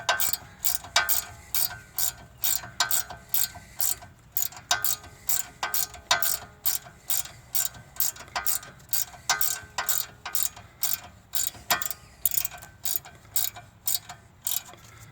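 A hand ratchet snugs up a bolt during CVT transmission replacement on a 2011-2015 Nissan Rogue, its sharp clicks coming in steady rapid bursts with short pauses between strokes, close and clear with no talking.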